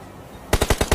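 Gunfire in PUBG Mobile: after a brief quiet stretch, five sharp, loud shots ring out in quick, even succession.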